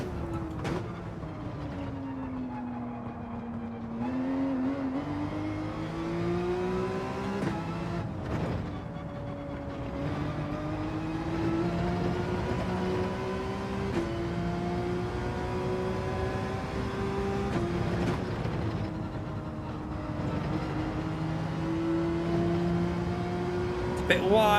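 A Porsche race car in Gran Turismo 7 pushes hard through a daily online race, its engine note climbing and dropping steadily with each gear change and corner, loud and continuous throughout.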